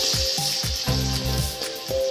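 Teasel gourd and chana dal kofta balls dropped into hot oil in a wok, a steady crackling sizzle punctuated by several quick splashing plops as each ball goes in.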